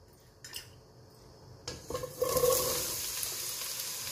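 Aubergine sautés in a spoonful of hot oil in a pan, a steady sizzle swelling up after a couple of clinking utensil knocks and stirring scrapes against the pan.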